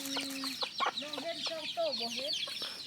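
Chickens cluck in a series of short calls with a rooster among them, a big, unruly cock in a Mlabri hill-forest setting, close by and fairly loud over a hissy outdoor background with no voices.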